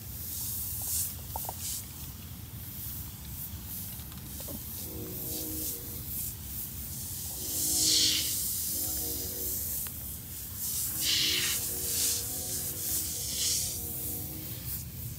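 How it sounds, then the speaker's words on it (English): Degreaser sprayed from a trigger bottle onto greasy aluminum in a garage, with short hissing bursts around the eighth and twelfth seconds over a steady low background hum, alone with no talking. "I'm gonna spray it on here and see if it,"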